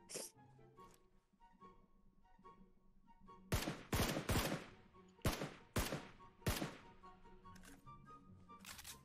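Gunfire in PUBG Mobile rings out in a cluster of sharp, loud shots in the middle of the stretch, a few bursts spaced a second or so apart over quieter background game sounds.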